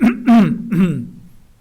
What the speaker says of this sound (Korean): 헛기침을 했습니다